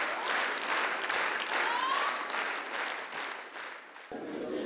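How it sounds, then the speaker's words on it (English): Thunderous applause from a theatre audience after a play, a dense continuous clapping that fills the room at steady loudness, with faint voices mixed in and no single word standing out. "the audience's thunderous applause was the best proof"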